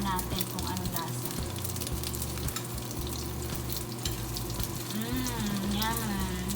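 Okoy fritters frying in oil in a pan, a strong, steady sizzle that continues throughout, with stirring and utensil clinks and a voice talking over the frying.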